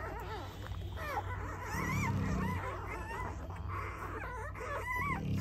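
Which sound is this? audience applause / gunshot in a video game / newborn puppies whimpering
newborn puppies whimpering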